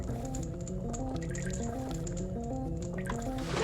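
Link wades into water in the Great Bay Temple of Zelda: Majora's Mask, with soft dripping splashes over steady, looping game music.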